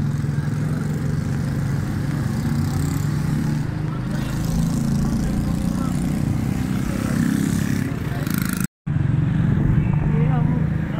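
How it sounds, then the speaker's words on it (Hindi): Motorbike traffic on a busy road, with a steady rumble of engines passing close by and someone talking over the noise. "यहाँ पे यूँ ही बाइक्स का रश होता है, हमेशा यहाँ पे यूँ ही रश लगा रहता है।"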